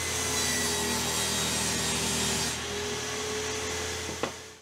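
A power saw cuts half-inch plywood panels for a drawer organizer, a loud steady rasping whine that drops in pitch partway through and ends with a brief knock as the blade clears, with no voices.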